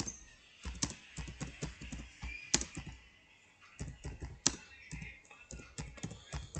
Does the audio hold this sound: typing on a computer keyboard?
yes